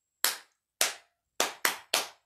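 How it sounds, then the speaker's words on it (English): Five sharp hand claps from a toddler circle-time leader clapping way down low, near and crisp, in an uneven rhythm with a final quick triple. "Now clap way down low, where you can't even see my hands,"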